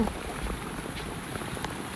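Steady rain falls on the trees and ground of a forest near Bagda sea beach, making a dense, even patter close by and fairly soft, with no voices.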